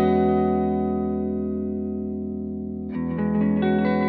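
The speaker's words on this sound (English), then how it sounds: "This is the Keeley delay as a normal mono effect." Electric guitar through a Keeley Dark Side delay pedal in mono: a sustained chord rings out with delay repeats and slowly decays, then new notes are struck and trail off in echoes.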